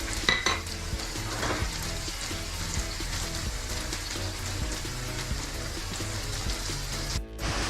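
Sliced onions sizzle and crackle in a hot pan for a paneer matar masala, with steady close frying hiss and intermittent scraping of a spoon stirring them throughout, no talking.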